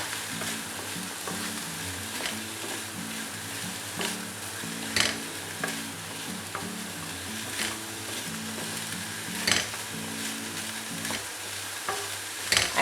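Chickpea sundal with grated coconut is stirred in a frying pan, a spoon scraping and tapping against the metal over a soft steady sizzle, with louder clinks breaking in now and then.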